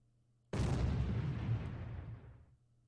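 A single heavy gunshot blast from a Lock N' Load Tactical Heroes of the Red Star wargame bursts suddenly out of near silence. It then decays in a long rumbling tail over about two seconds, loud and close, with no talk.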